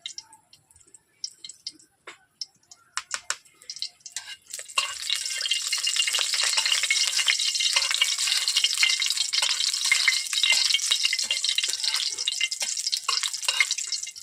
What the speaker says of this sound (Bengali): তেলটা গরম হয়ে গেছে, শুকনো লঙ্কা দিয়ে দিচ্ছি।